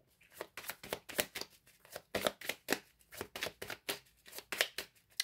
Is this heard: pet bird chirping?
no